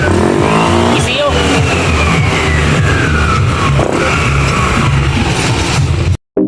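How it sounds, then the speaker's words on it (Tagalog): A Yamaha NMAX V2 scooter engine runs and revs loudly and close by after an ECU repair, its pitch rising and falling, with voices mixed in. "gumanda na yung andar ng motor ni boss"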